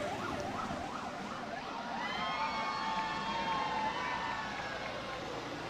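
An ambulance siren wails with a rising and falling tone in a parade, moderately distant over a steady bed of street and traffic noise.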